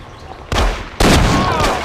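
Gunfire in the Mafia crime video game: two sudden loud gunshot bursts about half a second apart, each ringing out into a dense noisy tail.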